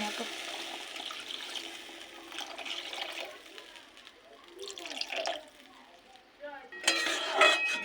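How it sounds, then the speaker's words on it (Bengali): Water is poured into a pan of cooked spice masala for bhola fish curry, a rushing splash and bubbling hiss that swells near the end over a background of frying. "এবার দিয়ে দেবো জল"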